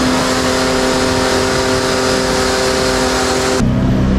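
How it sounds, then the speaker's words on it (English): A loud, steady air blower dries the chain of a 2021 Honda CB650R motorcycle after a wash, a continuous close roaring rush with a droning hum that drops off sharply near the end. "Blower."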